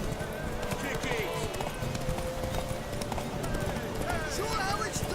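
Rapid rhythmic hoofbeats of a galloping horse in the video game The Witcher 3: Wild Hunt, with a brief whinny and overlapping game sound effects in the background.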